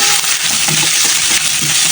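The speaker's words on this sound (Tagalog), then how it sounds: "gisain lang natin siya ng bahagya" Steady loud sizzling of fish, including the head, frying in a hot pan, with occasional light stirring clinks, continuous throughout with no talking.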